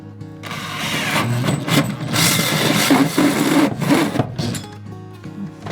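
A power drill bores into wood with a grinding, rasping whir that surges and strains continuously for several seconds, loud and close.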